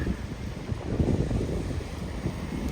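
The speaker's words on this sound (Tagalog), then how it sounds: "Nakaka-relax yung niya, yung hampas ng hangin." Wind gusts buffet the microphone outdoors in Indonesia, a continuous low rumbling roar that swells and eases in uneven pulses.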